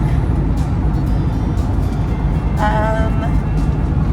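A camper van driving on a road on a trip from Spain to Morocco, heard from inside as a steady, loud rumble of road and engine noise, with a brief voice partway through.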